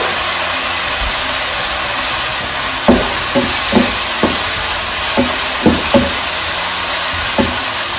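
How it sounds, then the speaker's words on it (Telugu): Finely chopped onions with salt frying in a pan, a steady loud sizzle with a few sharp clinks of a stirring spoon against the pan scattered through. "సాల్ట్ యాడ్ చేస్తే మనకి ఉల్లిపాయలు కొంచెం త్వరగా ఫ్రై అవుతాయి అనమాట"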